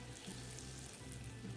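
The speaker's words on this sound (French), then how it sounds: "Dans ma casserole, je mets les 50 g de beurre." Butter, 50 g, melting in a saucepan gives off a steady, soft, close sizzle with a faint frying crackle, continuous and alone throughout.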